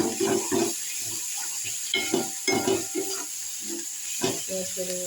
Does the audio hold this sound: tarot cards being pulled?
no